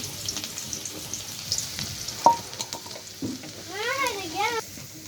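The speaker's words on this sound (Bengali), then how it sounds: "রসুনটি দিয়ে দিলাম, শুকনো মরিচটি ভাজা হয়ে গেছে।" Garlic and dried chili frying in hot mustard oil, a soft crackling sizzle under scattered stirring clatter and a sharp tap, with a brief squeaky scraping near the end.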